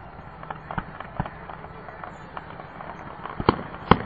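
Fourth of July fireworks burst at a distance in a scattered series of sharp cracks and thuds. Two louder bangs come near the end over a low background murmur.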